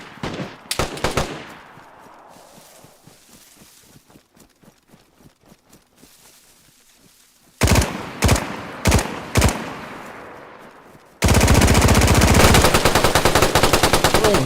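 Gunfire in the video game DayZ: loud separate shots and short bursts ring out, with sharp reports early on, a sparse run of quieter cracks, a cluster of heavy shots, then a sustained dense volley at the end.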